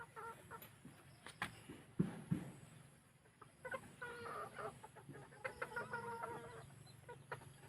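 Thai bantam chickens of the Benjarong colour variety cluck and murmur softly at dusk, about five in the evening, as they settle to roost, with several short calls scattered through a low, busy farmyard background.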